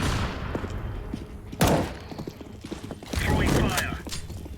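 A flashbang grenade goes off in the shooter game Black Ops 3, with a sharp close burst followed by a ringing, noisy wash, among other gunfire and game effects.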